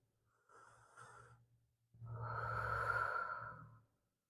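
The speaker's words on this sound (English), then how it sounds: "Let's take one more breath here." A deep breath taken during a yoga sequence: a soft inhale followed by a longer, louder sighing exhale, close and clear with no talking.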